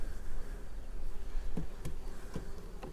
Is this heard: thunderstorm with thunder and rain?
no